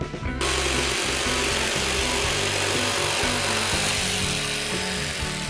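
Power saw cutting a wooden slat for a rustic bed headboard, a loud continuous buzzing whine that runs steadily through the whole cut, close and alone without talk.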